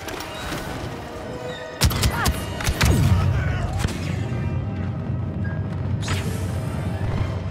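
A grenade goes off in a Star Wars Battlefront II match, a heavy thud and boom rising over constant battle noise and gunfire, followed by scattered blasts.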